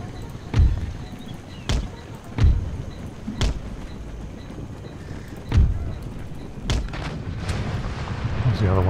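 Cannon artillery booms in Empire: Total War, about seven sharp heavy blasts at irregular intervals over a continuous battlefield rumble.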